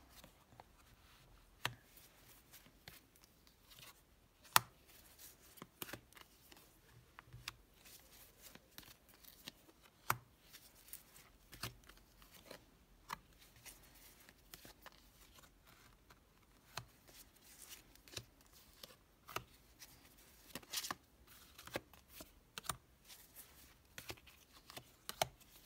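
Ten tarot cards laid out one by one on a table, giving soft scattered taps, slides and card shuffles at close range with quiet pauses between, no voices.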